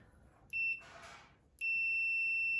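Two sharp, high continuity beeps from a multimeter testing a fuse on an LG refrigerator: a short one, then a longer steady tone, separated by a burst of rustling handling noise, all close and clear.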